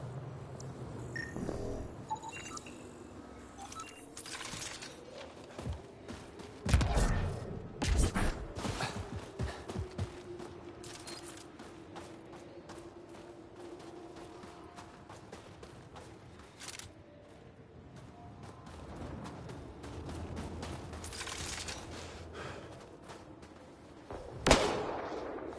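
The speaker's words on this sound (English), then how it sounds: "Shooting the device will destroy it." A weapon fires at a Kett device in the sci-fi game Mass Effect: Andromeda. A few sharp, scattered shots crack over a low, murky background, with one clear loud blast near the end.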